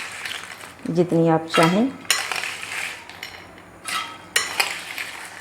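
Ice cubes clink and rattle into a glass while making doodh soda, a few sharp bright knocks in quick bursts, close by, following a woman's speech.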